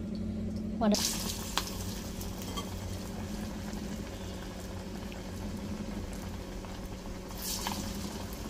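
Oil heating in a kadai for frying masala vada, a steady soft bubbling sizzle with a few brief knocks and clinks near the start, continuous and fairly quiet throughout.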